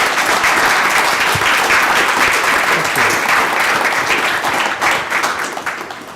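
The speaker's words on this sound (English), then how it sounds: "Please join me in giving our two speakers a round of applause." Sustained, loud audience applause after a debate on whether the Constitution is broken, steady throughout and thinning slightly toward the end.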